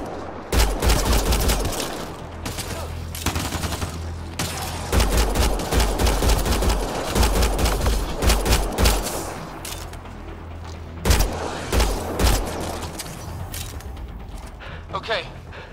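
Rapid bursts of video game gunfire from Mass Effect: Andromeda crackle in repeated volleys over several seconds, loud and close, with deep booming impacts and characters shouting between the shots.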